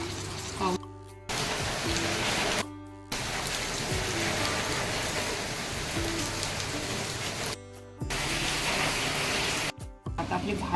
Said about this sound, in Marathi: आता बाहेर आमच्या इथून मस्त पाऊस पडतो तुम्हाला दाखवतेच मी आता